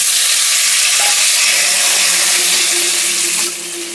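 Green mango pieces sizzle loudly in hot mustard oil with mustard seeds and a dried red chilli, a dense, close, continuous frying hiss that eases slightly near the end.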